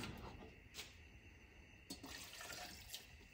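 Water pours into a blender jar holding green chile, a soft, close, continuous splashing trickle with a few sharper clinks, quiet and without talk.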